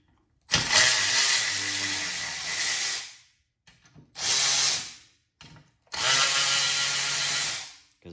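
A power driver loosens the sump bolts on a Briggs engine of a Craftsman pressure washer in three loud, close, high-pitched bursts of a few seconds each, separated by brief pauses.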